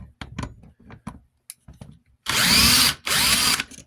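A power drill whirs in two loud sustained bursts while removing screws from a Lasko dual pivot tower fan, close up, after several soft clicks and taps of handling, with no talking.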